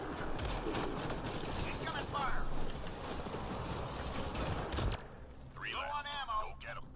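Rapid gunfire in Mass Effect: Andromeda multiplayer, a dense continuous rattle of shots and mechanical clatter, with a voice talking over it near the end.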